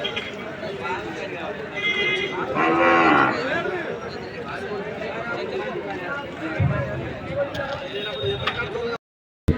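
Cattle low and moo at a busy weekly bull market in Aiza mandal, Jogulamba Gadwal district. Calls rise and fall over constant crowd chatter and movement, with people talking nearby.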